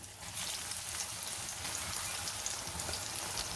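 Cut Sindhi sanna pakoras drop back into hot oil for a second fry, giving a steady, dense sizzle that stays even and moderately quiet throughout a few seconds, with no voices.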